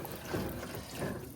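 Jelly jars being rinsed in hot water, giving a steady faint trickle and splash of running water with soft swells, no voices.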